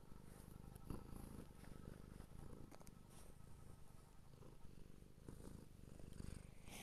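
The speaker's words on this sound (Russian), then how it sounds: "Слышите, вот со мной еще кошечка мурлыкает." A pet cat purring close to the microphone, a continuous low rumbling purr that holds steady throughout at a soft level, with no talking over it.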